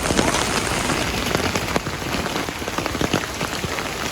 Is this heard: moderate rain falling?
yes